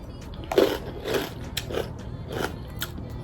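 A crunchy sandwich of tuna and cranberry is bitten and chewed in several distinct crisp crunches spaced about half a second apart, close to the mic and alone.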